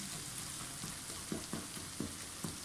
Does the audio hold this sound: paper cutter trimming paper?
no